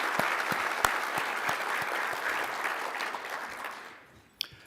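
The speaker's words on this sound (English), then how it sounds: "Let's also give a round of applause to our wait staff here at the Radisson Blu" A room of lunch guests at the Radisson Blu applauds the wait staff, steady clapping with a few sharp nearby claps, fading out over the last second.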